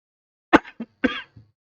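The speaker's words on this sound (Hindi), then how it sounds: "मैं बहुत देर तक बोलने लगूं ना तो खांसी आने लग" A few short, quiet coughs in quick succession, close by, with brief pauses between them.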